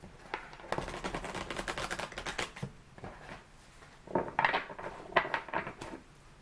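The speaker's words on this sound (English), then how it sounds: "I'm going to be shuffling on camera today." Tarot cards are shuffled close to the microphone, a quiet stream of crisp papery clicks and riffles that grows brisker in short bursts toward the end.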